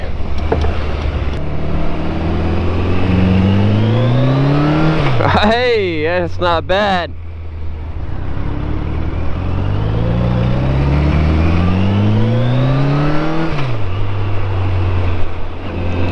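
An inline-four dirt bike engine revs repeatedly, its pitch sweeping up and dropping back, loud and close, with a brief spoken remark in the middle.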